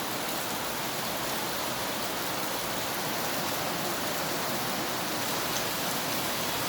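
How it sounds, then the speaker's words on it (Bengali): Steady rain falling in a continuous even hiss with no breaks, fairly soft and alone with no voices. "বৃষ্টি হচ্ছে রহমতের বৃষ্টি"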